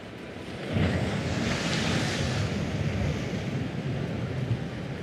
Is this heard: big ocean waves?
yes